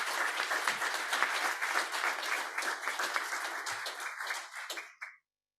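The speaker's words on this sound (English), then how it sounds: "I'd like a round of applause right now for Dave" Audience applause for a colleague named Dave on his retirement at a 2022 crane industry forum, a steady wash of many hands clapping for about five seconds before tapering off and stopping abruptly.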